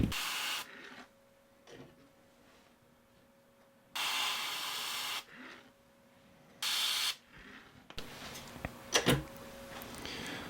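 An airbrush lays black paint stripes onto a fishing lure in a green pumpkin scheme, giving several short, loud bursts of broadband hiss separated by quieter gaps and light handling noises, with no talking.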